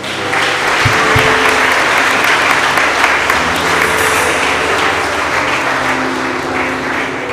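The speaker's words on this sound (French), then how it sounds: "Est-ce que vous voulez une dernière fois applaudir les enfants?" A church congregation at a Sunday service gives the children one last round of applause, a loud, dense, sustained clapping that holds evenly from start to finish with no talk over it.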